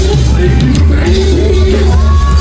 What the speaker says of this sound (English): All my ladies scream.